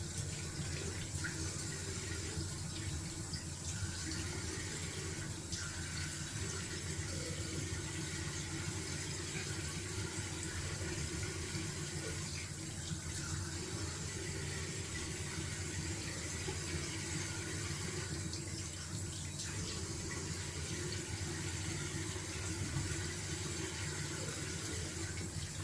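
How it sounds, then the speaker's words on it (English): A bathroom tap runs steadily for a cold water rinse during a wet shave, a continuous hiss of flowing water into a sink lasting throughout without any talk. "Going down for a cold water rinse and then I'm back."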